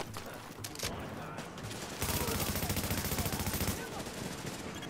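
Sustained automatic gunfire in The Division video game, rapid rhythmic shots that grow denser and louder midway, continuing steadily to the end.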